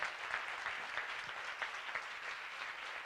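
A dense, steady wash of audience applause for the speakers and panelists at a leadership event's closing session, heard alone without talk for a few seconds.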